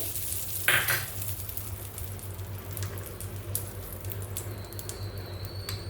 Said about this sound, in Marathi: त्याच्यावर आपल्याला जिरा आणि कढीपत्त्याची फोडणी भरून घालायची